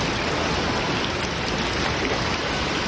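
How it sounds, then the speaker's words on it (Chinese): Heavy summer thunderstorm rain pours down steadily on a street in Yuanlin, Changhua, a dense, loud, unbroken wash of water that cuts off sharply at the end. "彰化园林进修路雨势也很惊人"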